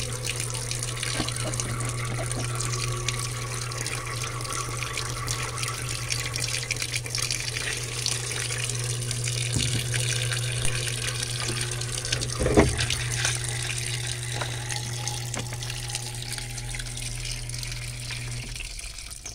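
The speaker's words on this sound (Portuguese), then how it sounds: "já coloquei o tanquinho aqui também para encher" Water pours steadily into a small washing machine tub as it fills, a continuous rushing flow with a low constant hum beneath it, lasting throughout with a brief knock partway.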